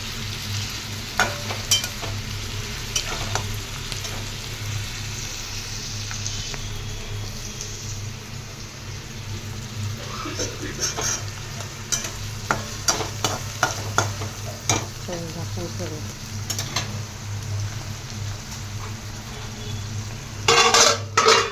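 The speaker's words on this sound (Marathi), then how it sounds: "सर्वात प्रथम आपण इथं कांदा टाकलेला आहे तो कांद्याला चांगलं परतून घ्यायचं आपण" Chopped onion sautéed and stirred in hot oil for a dried fish (sukat) vegetable dish, giving a steady soft sizzle with repeated scraping and clinking of a spoon against the pan, close and without speech.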